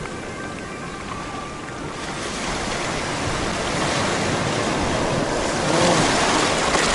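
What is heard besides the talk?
Black Sea waves breaking on the shore at Sochi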